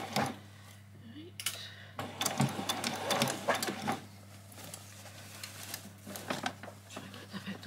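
A sewing machine back stitches a doll's dress at a 1/4 inch seam, running in short clattering bursts and irregular stops, near and moderately loud, with a voice speaking between the runs.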